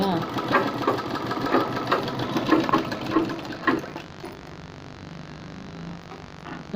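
A large sewing machine stitching along a fabric edge, its rapid mechanical clatter running close by before easing into a softer hum, with a voice talking over it.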